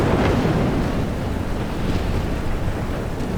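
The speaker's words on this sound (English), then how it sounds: "Oh my god, look at the waves." Ocean waves in the Life is Strange video game: a loud, steady surf wash with a gusty, wind-like roar that swells and ebbs continuously. No talk.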